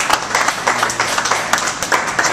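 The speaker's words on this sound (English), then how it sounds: "give Jeff a big round of applause." Audience clapping during a live pizza-making demonstration, a brief burst of fairly close, crisp claps with uneven rhythm.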